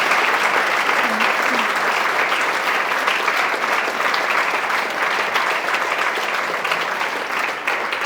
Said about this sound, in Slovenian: tako da Lena, en velik aplavz.